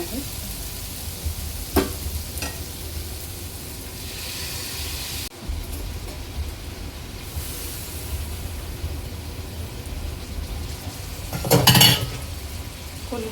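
Prawns are added to onion masala that has been frying in oil for a few minutes, producing a steady, close sizzle with occasional utensil clinks and a louder burst of stirring near the end.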